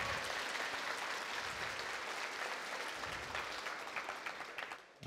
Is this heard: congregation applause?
yes